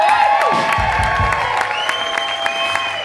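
Audience applause and cheering at a live music set, a loud dense wash of clapping with whoops, while sustained musical tones ring over it and a held note rises near the end.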